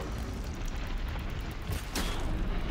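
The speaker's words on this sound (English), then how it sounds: "Explosion is better." A fire-arrow strike explodes in the video game Horizon Zero Dawn amid a continuous loud, rumbling roar, with a fresh burst flaring up near the end.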